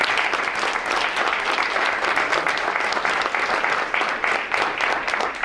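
An audience at a school board meeting breaks into sustained applause, many hands clapping densely and evenly for several seconds in a large room, loud and continuous with no pauses.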